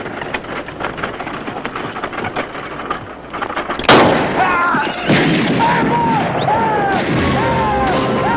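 Gunfire in a Western shootout set in the Billy the Kid era, with a sharp loud shot breaking out after a tense, rumbling lead-in, followed by sustained noisy reverberant action and faint voices underneath.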